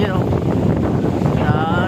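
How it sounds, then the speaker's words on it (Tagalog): Strong wind roars and buffets the microphone continuously at a monopole antenna tower, a loud, dense rush with a faint voice underneath. "Napakalakas ng hangin."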